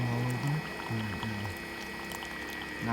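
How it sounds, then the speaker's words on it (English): Hot water pouring from a Keurig K Compact coffee maker through a reusable K-Cup filter, a steady close liquid stream that sputters unevenly at first, with a low humming tone from the machine. "Started off shaky with the water spewing all over."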